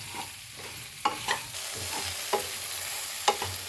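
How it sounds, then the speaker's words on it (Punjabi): Okra with amchur powder stir-frying over a high gas flame, a steady sizzle broken by several sharp scrapes and clinks of a spoon against the pan, close and fairly loud, with no voices. "ਹੁਣ ਆਪਾਂ ਇਹਨੂੰ ਤੇਜ਼ ਗੈਸ ਤੇ ਪਕਾਵਾਂਗੇ 2-3 ਮਿੰਟ"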